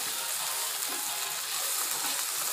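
Potatoes with red chilli powder fry in a pan for methi aloo sabji, giving a steady, even sizzling hiss at close range with no distinct stirring strokes and no talking.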